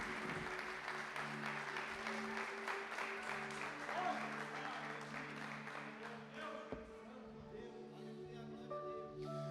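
A church congregation applauds during a sermon, a continuous wash of clapping from many people heard under sustained musical tones, fading slightly toward the end.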